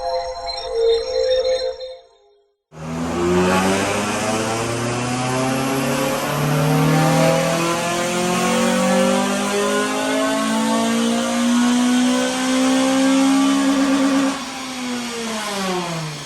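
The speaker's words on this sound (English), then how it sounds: "we're going to do an initial power run after a visual inspection and see what power she's putting out" A Honda Civic FN2 Type R engine on a dyno power run: after a short pause it roars up loudly and steadily through the revs, the rising pitch climbing for about twelve seconds before backing off.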